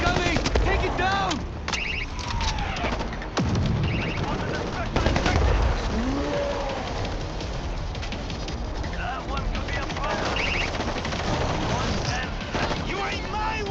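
Gunfire in the World War Z video game, Tokyo chapter: dense, continuous automatic weapon bursts and shots layered with game noise and shouting voices, loud and unbroken throughout.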